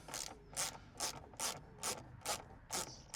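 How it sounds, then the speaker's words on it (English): A ratchet with an 8mm socket works a bolt loose on a Mini Clubman Cooper S, producing seven evenly spaced, crisp clicking bursts at close range in a quiet workshop. "you can actually undo it with an 8mm socket"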